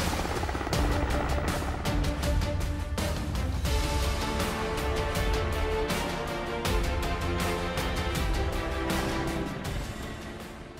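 Military helicopter on a training flight, a steady loud rotor drone with rhythmic blade chop holding throughout, fairly close and continuous with no voices over it.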